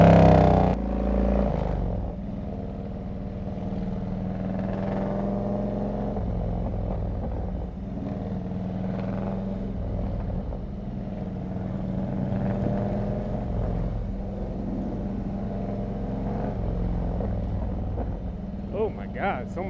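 Harley-Davidson Road King Classic fitted with 39-inch fishtail exhausts riding over bumpy road, a steady deep engine rumble throughout, loud and close, with a brief rev near the start and a voice talking over it.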